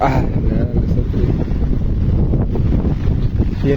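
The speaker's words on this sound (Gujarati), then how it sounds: "આજ તો પવન ઘણો આવતો હતો ને હતો જ તે હજી પણ આવે જ છે" Strong wind gusts buffet the microphone during a rainstorm, a continuous low roaring rumble with fluctuating force, loud and close, with no clear rain patter standing out.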